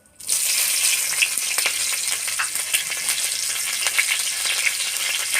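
Whole cumin seeds and chopped green chilli hit hot oil and sizzle sharply at once, settling into a loud continuous frying hiss with scattered pops and crackles close by.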